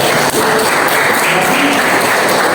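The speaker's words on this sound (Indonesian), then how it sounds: "kasih tepuk tangan betul" Classroom students clap together during an Indonesian archery lesson, giving a continuous, fairly loud wash of hand claps that stays even and close throughout.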